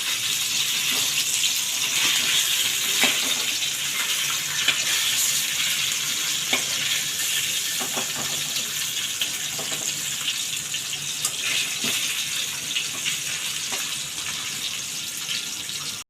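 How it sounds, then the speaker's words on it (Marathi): Mackerel shallow-frying in oil in a kadhai gives a steady, close sizzle that runs unbroken throughout, with faint crackles and a few light clinks scattered on top and no voices. "पहिले मच्छी जरा शालो फ्राय करून घेते जेणेकरून मच्छी आमटीत फुटणार नाही"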